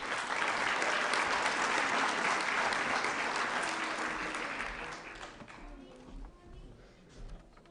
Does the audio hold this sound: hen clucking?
no